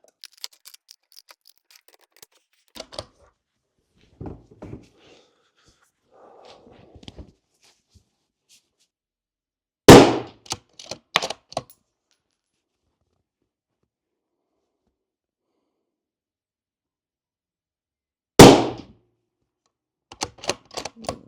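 Loud, sharp rifle shots from a Tikka T3x ACE Game firing Barnes Precision match ammunition with 140-grain bullets, about three separate reports spaced several seconds apart, with quiet handling clicks and faint rustling in between.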